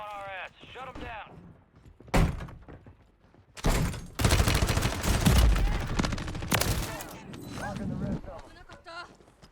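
Gunfire in the Warzone video game crackles in sharp bursts and a sustained loud volley mid-clip, mixed with game effects while people talk over it.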